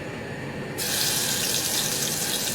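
Green chilies for a potato breakfast dish go into fully heated oil, setting off a sudden loud, steady hiss after a brief quieter moment. The hiss then holds evenly to the end.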